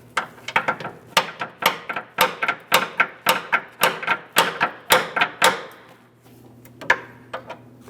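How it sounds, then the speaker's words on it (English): Rapid, sharp taps strike a rusted bolt on the rear upper rearward control arm of a 2005-2010 Chrysler 300, about a dozen close, loud hits in quick bursts, then a pause and a few last knocks. "I'm going to tap this in place."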